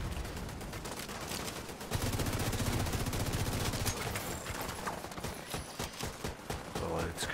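Rapid bursts of gunfire from The Division 2 in hardcore mode, dense and continuous with overlapping shots, loud throughout, while someone talks intermittently over the shooting.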